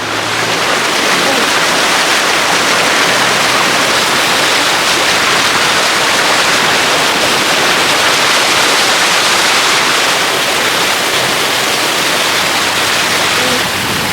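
Loud, dense, continuous roar of heavy rain and rising floodwater rushing past in the Philippines, unbroken and close, filling the whole scene.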